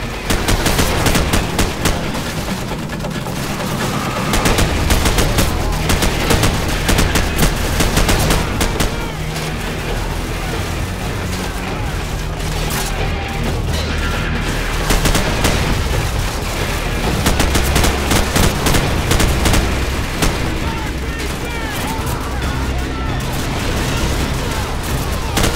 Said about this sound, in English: The main gun's offline, but we still have our machine gun.